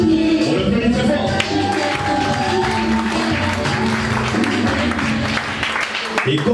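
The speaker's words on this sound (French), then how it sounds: "On l'applaudit très fort." Guests at a French civil wedding clap during the ring exchange, a sustained round of applause mixed with crowd murmur and a voice speaking over it.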